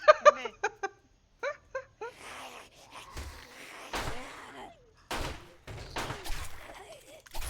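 Several sharp gunshots in the 7 Days To Die video game ring out at irregular intervals, with a person talking at the start and game noise between the shots.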